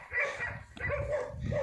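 Dogs in a Himalayan village on a trek bark and yip in quick short bursts, fairly close and alone without talk.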